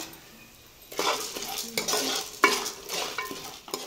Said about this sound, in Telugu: ఇప్పుడు మళ్ళీ పుట్నాలు కూడా ఫ్రై చేసుకున్నాము